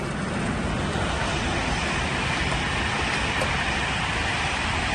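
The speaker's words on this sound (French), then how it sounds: "On va juste attendre que le train passe." A train passes close by at the Cité du train in Mulhouse, a loud, continuous broadband roar and rumble filling the whole stretch without letting up.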